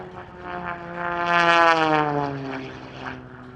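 A propeller-driven air race plane at an airshow sweeps past at extreme low level. Its engine drone rises to a loud close peak and then fades, with the pitch sliding downward as it passes.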